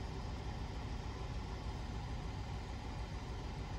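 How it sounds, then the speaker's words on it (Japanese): A light truck engine idles steadily at about 800 rpm, a constant low, close rumble with no voices. "今のエンジンの回転数が800回転です"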